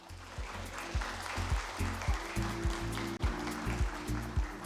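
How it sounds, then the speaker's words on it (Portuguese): An audience at a project-management talk on artificial intelligence claps to welcome a speaker to the stage. The applause is a steady, moderate patter over a loud, rhythmic low musical beat that dominates the sound. "eu peço uma salva de palmas"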